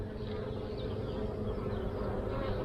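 Honeybees buzz steadily and densely at an open hive, a continuous close droning hum from many workers, some returning with pollen, with no voices.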